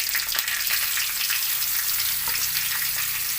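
Curry leaves and crushed shallots fry in hot oil, a loud continuous close sizzle with a few faint stirring scrapes and no voices.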